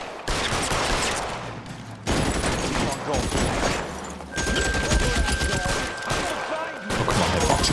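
Shots ring out at looters in the video game L.A. Noire, in loud repeated bursts of gunfire that cut off and resume several times, with a high steady tone entering midway.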